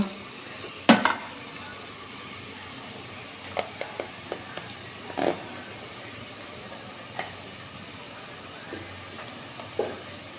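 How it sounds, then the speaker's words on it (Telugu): Onions frying in a pan for chicken curry make a soft, steady sizzling hiss, broken by a few sharp pops and clicks of a utensil, heard fairly quietly with no talking. "ఆనియన్స్ ఫ్రై అయినాయి చూద్దాం ఫ్రై అవుతున్నాయి మంచిగా"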